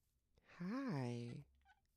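A Minecraft cat lets out a single loud meow, rising then falling in pitch and lasting under a second, heard alone against near silence.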